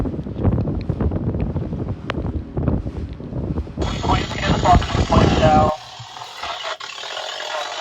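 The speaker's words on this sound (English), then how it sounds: "We've been sailing through 25, 30 knot winds today" Strong 25 to 30 knot wind roars and buffets the microphone steadily aboard a sailboat, later joined by a hissing rush of water as the wind noise drops off.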